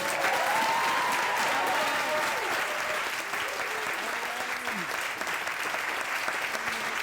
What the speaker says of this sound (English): If we could clap it up for my mom, please.